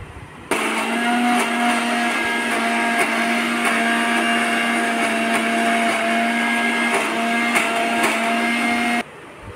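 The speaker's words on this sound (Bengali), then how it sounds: "জল দিব না, এইভাবেই মিক্সিতে বাটবো।" A mixer grinder runs steadily, grinding green chillies, garlic and onion dry without water, with a loud continuous whirring motor hum that starts abruptly, holds for about eight seconds, then cuts off.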